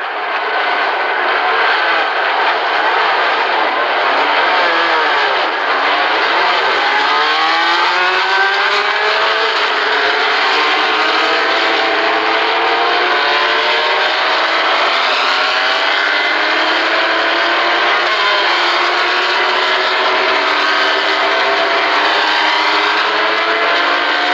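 Race car engines roar at the 1975 24 Hours of Le Mans, a loud, continuous blend of many cars revving and accelerating, with rising and falling engine tones sweeping through the whole stretch.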